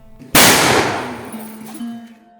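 A homemade monkey gun, built to scare monkeys away from crops, fires one loud, sharp blast close by, and the report rings and decays over about two seconds.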